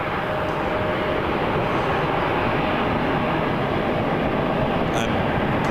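Air France Boeing Dreamliner jet airliner at Toronto Pearson Airport, a steady broad roar of jet engines held at even loudness throughout, moderately distant, with no talking.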